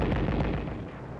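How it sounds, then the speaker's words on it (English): Mortars and 155 mm guns fire during the 1945 Battle of Angaur in the Second World War. One heavy, rumbling blast sounds, then decays through a short, noisy tail, with no voices. "We called back for mortars and 155s."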